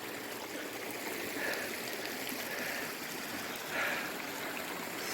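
A small stream flowing below a walking path on the Camino de Santiago, a steady broad rush and gurgle of water that fills the whole stretch without talk.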